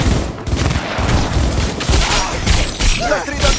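Automatic weapons fire in the video game Cyberpunk 2077: rapid, continuous bursts of gunshots and thuds rattle on loudly throughout, with a voice briefly heard toward the end.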